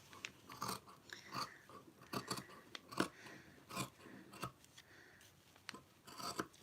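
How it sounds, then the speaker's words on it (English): Scissors snipping through handwoven, handspun fabric in a run of irregular crisp cuts, close and fairly quiet, with no talking. "so cut that there and then cut this all the way up"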